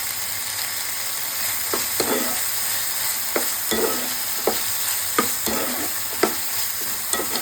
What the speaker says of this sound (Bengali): এবার কষিয়ে নেবো ভালোভাবে। যখন তেলটা ছেড়ে দেবে তখন কত টমেটো দেবো, একটু টমেটো কেটে দিয়েছিলাম, দিয়ে দিলাম।